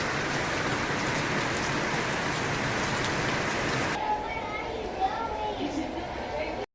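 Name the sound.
rain falling outside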